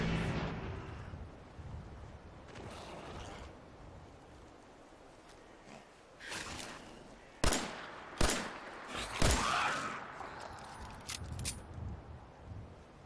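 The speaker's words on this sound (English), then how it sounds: "I think I was shooting the tree stump." Several loud, sharp gunshots ring out in a modded Fallout 4 gunfight, spaced a second or so apart with ringing tails, followed by scattered quieter shots and rustling in the background.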